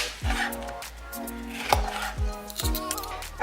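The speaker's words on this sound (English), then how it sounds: "So Babe's cutting the onions and the peppers." A knife chopping onions and peppers on a cutting board, several firm, evenly spaced thuds with short pauses between runs, close and clear with no talking.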